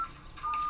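Two brief telephone dialing tones, close and clear, sound from a TV drama as a phone is dialed to call the police, separated by a short pause with faint background noise.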